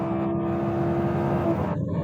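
Audi R8 sports car engine in a steady high-revving drone during a hard pull through the gears, loud and continuous with a brief dip near the end.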